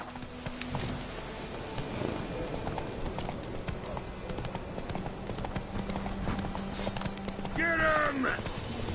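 In The Witcher video game, a horse gallops with rapid, continuous clip-clopping hooves, loud and close, while a voice speaks over the running.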